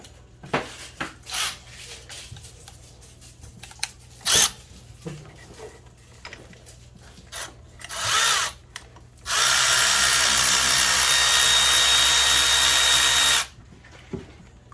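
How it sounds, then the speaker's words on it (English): A speed ratchet spins out bolts during a water pump replacement on a GMC Savana/Chevy Express 3500 van with a 6.0L engine, heard as brief ratcheting bursts followed by a steady four-second whirring run, close and loud. "let me use my speed ratchet"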